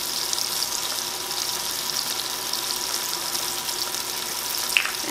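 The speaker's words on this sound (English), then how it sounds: "Now our object here is just to get pork chops browned." Pork chops browning in a hot pan, a continuous even sizzle and crackle with a small clink near the end, no voices.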